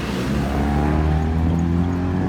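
A loud, rumbling car exhaust drones steadily close by on Toronto's Bathurst Street, a deep throaty engine roar with no talking.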